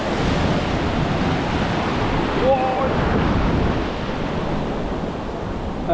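Ocean surf rolls in steadily along Mombasa beach in Kenya, a broad continuous wash of waves with some wind buffeting the microphone, loud and unbroken throughout.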